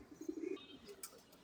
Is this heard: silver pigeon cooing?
yes